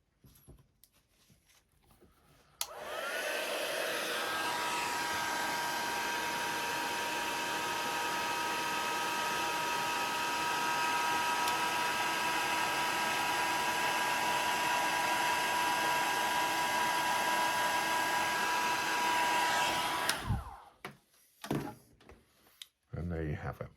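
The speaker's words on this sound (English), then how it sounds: "we will heat set this one right here" A handheld embossing heat tool blows steadily for about seventeen seconds with a constant whirring hum while heat-setting a Christmas card, then clicks off; faint handling noises come before and after.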